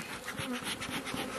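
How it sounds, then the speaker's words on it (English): Honey bees humming steadily in an open hive on a rainy day, a dense close-up buzz that holds throughout with no voices. "Boy, those bees look good."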